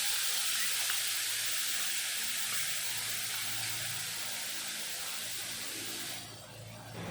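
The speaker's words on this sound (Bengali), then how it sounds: "কড়াইতে তেল আছে, এই তেলের ভিতরে দিয়ে দিলাম লঙ্কা বাটা।" Chili paste dropped into hot oil in a wok, a steady loud hiss of sizzling that fades slightly over several seconds, then dips briefly near the end.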